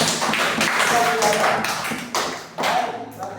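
Students in a junior high English classroom give a short burst of clapping, a few quick rounds of hand claps close by with some talk mixed in.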